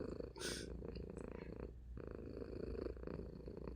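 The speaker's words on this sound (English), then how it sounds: "You're purring so lovely." A cat purring steadily and close, a continuous low rumbling rhythm that runs through the whole stretch with no voice over it.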